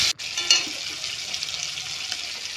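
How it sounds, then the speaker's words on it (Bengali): Tomato with a ground paste of onion, ginger, garlic and cumin frying in a pan for ghugni, a steady close hiss and sizzle after an opening clatter, with light stirring noise throughout. "টমেটোটা একটু ভাজা ভাজা করে তারপর বেটে রাখা মশলাগুলো দিয়ে দেব"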